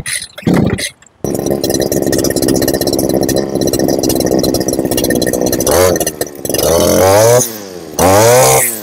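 A petrol brush cutter's two-stroke engine buzzes loudly and steadily after being switched on, then revs up and down in several sharp rising and falling surges toward the end, with no voices.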